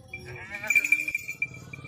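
Goats bleat at a goat farm in Jaunpur, one drawn-out nasal call rising over farmyard background with some clinking, and someone talks nearby.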